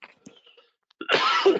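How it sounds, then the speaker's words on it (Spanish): A person gives a short cough, first small throat sounds and clicks, then one louder, breathy cough burst near the end, close to the microphone in a quiet room. "Ay, esta tosecita"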